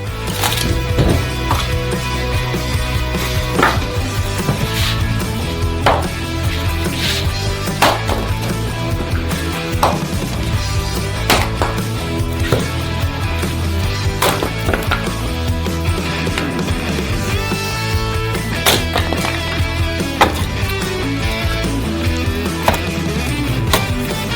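Wood being chopped for an oven fire outdoors, with a steady series of sharp, loud chops and thwacks at irregular intervals over layered background sound, nobody talking.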